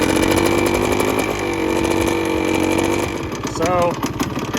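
A 1971 Suzuki TS185 motorcycle engine runs at a fast, steady rev to burn off deposits, a continuous buzzy two-stroke drone that dips briefly near the end, with some faint background noise.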